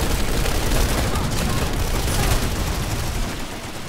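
Crossfire in the video game Planetside 2 produces a dense, continuous roar of rapid gunfire and blasts, loud and sustained before easing slightly at the end.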